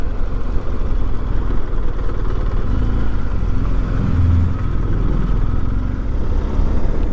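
Motorcycle riding through the grounds of Kedleston Hall, a loud steady engine drone with low rumble and wind noise, close and continuous with no talk.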